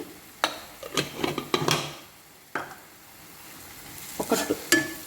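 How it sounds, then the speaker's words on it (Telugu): Curry with chili powder is stirred in a frying pan, with repeated close scrapes and clinks of the utensil against the pan in irregular bursts over a soft, continuous sizzle. "ఒక 1 మినిట్ ఇలా కద్దాము, ఉంచుదాము ఇట్లా కొంచెం సేపు."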